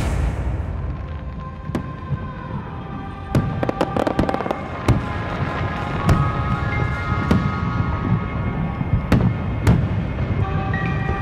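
Fireworks bursting during a celebration under a full moon aboard a yacht at sea, with sharp cracks and booms scattered irregularly over a steady rumbling background, loud and fairly close.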